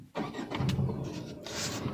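Tata Altroz car engine starting, a short cranking burst that settles into a close, steady idle hum.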